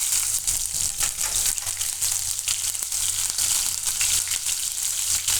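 Cumin seeds, chilies and curry leaves dropped into hot oil for a beet sabudana khichdi, giving a constant bright crackling sizzle with scattered pops, steady and fairly quiet, with no talking.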